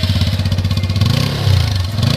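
A TVS Apache RTR 160 E20 motorcycle's exhaust burbles close and loud with a quick, steady pulsing idle beat, briefly swelling in a light blip of revs.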